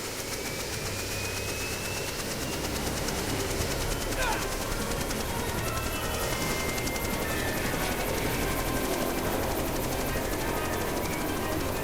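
In Jurassic Park: The Game, a helicopter roars loud and constant all the way through, its dense engine and rotor noise droning steadily with no break.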